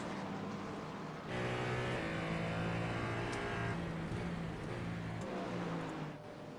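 Cadillac race car accelerating at Interlagos in a racing game, a loud sustained engine whine climbing in pitch as it gains speed, shifting gear partway through, then easing slightly near the end.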